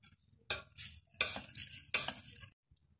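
A spoon stirs turmeric powder into milk in three scraping, swishing strokes, close and fairly quiet, with short pauses between them.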